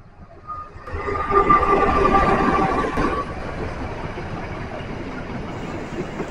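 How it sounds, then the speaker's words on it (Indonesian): The Lodaya passenger train, a full stainless-steel consist, rumbles past nearby with a swelling roar and rattle that peaks and then settles into a lower, steady rolling noise. "Melintas di depan kita kereta api Lodaya."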